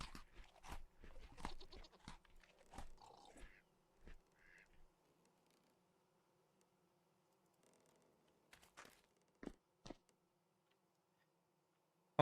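Goats bleating in the Vintage Story survival game, several short bleats in scattered bursts, with quiet gaps between calls and a faint background hum.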